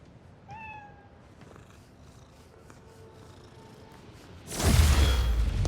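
A cat in the video game Spider-Man: Miles Morales gives a short meow and then purrs softly before a loud whooshing burst near the end.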